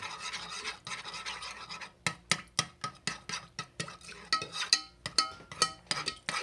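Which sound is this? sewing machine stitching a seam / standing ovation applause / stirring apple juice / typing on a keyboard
stirring apple juice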